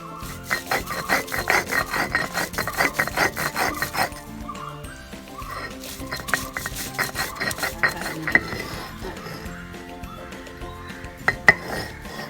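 Coconut, cumin and mustard seeds are being ground into a paste for mango pachadi in a village kitchen, a steady rasping, rubbing grind that runs continuously with brief pauses and a few sharper knocks near the end.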